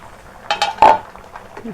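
A few sharp metallic clinks and a brief clatter of a spoon against a cooking pot while greens are stirred, followed by the lid going on, then a quiet stretch.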